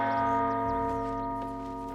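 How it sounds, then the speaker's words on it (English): A large bell in Baldur's Gate 3 rings out with one deep, resonant strike whose rich metallic tones hang and slowly fade, loud and near, with no voices over it. "Can I at least ring the bell?"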